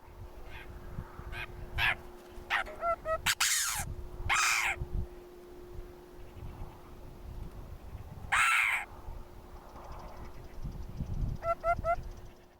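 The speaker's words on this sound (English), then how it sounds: "They also give some other vocalizations, such as a long caw and short caw." A Eurasian hoopoe gives harsh caw calls, a few short ones and a couple of longer drawn-out ones, spaced irregularly over a faint outdoor background with other distant bird notes.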